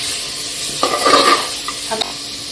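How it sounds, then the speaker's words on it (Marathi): Marinated mutton trotters are stirred in a hot pan, giving a bright steady sizzle with a few scraping, clinking strokes of the spoon against the metal, close and loud without any voices. "जे मॅरिनेट करून ठेवलेत ते टाकून घेऊया मिक्स करून घेऊया"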